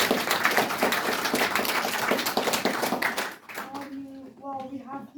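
A small audience claps for filmmakers at a film awards Q&A, brisk clapping for about three seconds before it stops and a voice begins speaking.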